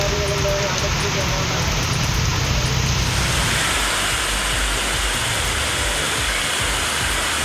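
Heavy rain pours down as a dense, loud, continuous roar of broadband noise, steady throughout, with a faint tonal hum and some background sound early on.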